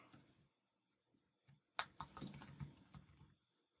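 Computer keyboard clacking as code is typed in Xcode 9: scattered quiet keystrokes early on, then a denser, louder burst of rapid typing in the middle that tapers off, with no talking.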